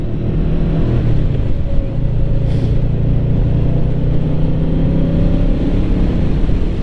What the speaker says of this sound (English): we're gonna go like half throttle on the Vmax here